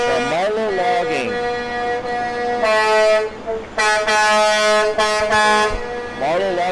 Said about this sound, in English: that very loud float you hear is from Marlow Logging.